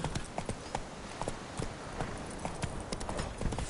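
Roach, Geralt's horse in The Witcher 3, trots with steady, close clip-clop hoofbeats that carry on in an even rhythm for the whole stretch.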